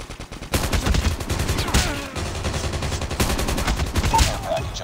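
Rapid gunfire from the mobile shooter game Call of Duty Mobile, dense bursts of automatic shots crackling loud and close almost continuously, with brief pauses and a faint voice underneath.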